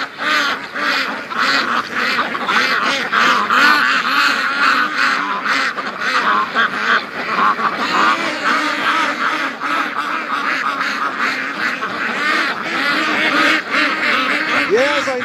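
A flock of free-range ducks quacks continuously and loudly at close range beside a frozen, ice-covered lake, overlapping calls forming a dense, busy chorus for the whole stretch.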